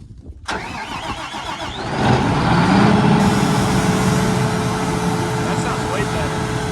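A rebuilt semi truck engine on a harvesting crew cranks, catches and fires up, then settles into a loud, steady rumbling idle close by, with people talking around it.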